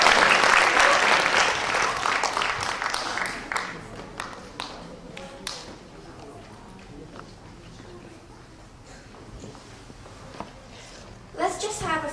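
An audience at a Korean culture performance gives a burst of loud applause that fades into scattered claps, with a voice speaking near the end.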